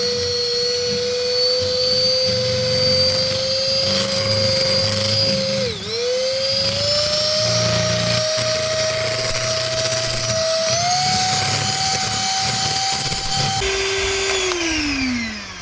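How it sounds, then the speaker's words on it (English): An electric hand mixer whirs steadily and close while beating mascarpone with egg yolks and sugar, its motor pitch dipping briefly under load, climbing in steps, then dropping lower near the end. "Now I add 250 grams of mascarpone and I mix all together."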